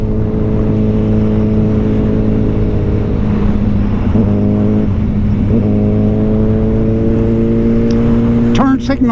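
A 2024 Suzuki Hayabusa 25th Anniversary sportbike with a quick shifter, its engine humming loud and close with a steady whine that steps up through quick gear changes, plus wind noise near the end.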